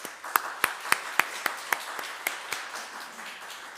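Church congregation clapping to welcome and encourage a missionary, heard as sparse, evenly spaced claps, about ten sharp hits, at moderate volume in a reverberant room.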